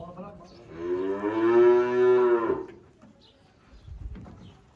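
Cattle at a livestock market selling sacrificial animals give a loud, drawn-out moo lasting about two seconds, followed by quieter background market noise.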